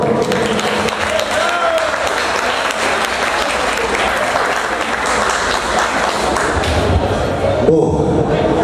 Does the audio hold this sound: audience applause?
yes